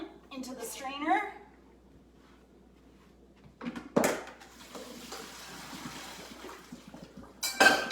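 Cooked pasta from a creamy chicken pasta dish is dumped into a metal strainer in a kitchen, with clattering pot and utensil clinks and a wet splashing rush, amid bursts of talk.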